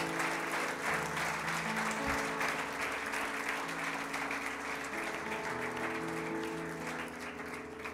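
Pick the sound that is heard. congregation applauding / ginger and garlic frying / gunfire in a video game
congregation applauding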